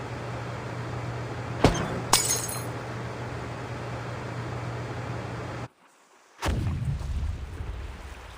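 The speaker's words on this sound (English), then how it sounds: "Sounds like some kind of explosion near the clinic." In the video game Reverse: 1999, two sharp blasts with a glassy shattering ring out over a steady low hum, followed later by a sudden silence and a heavy rumbling explosion.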